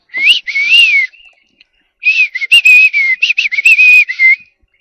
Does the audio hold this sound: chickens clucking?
no